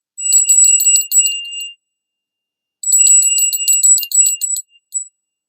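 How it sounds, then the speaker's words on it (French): A small hand bell rings in two bright, tinkling bursts, each about a second or more long, with a pause of silence between them; the sound is clear and close with no talking. "je vais prendre ma petite cloche pour prendre votre énergie et la mienne"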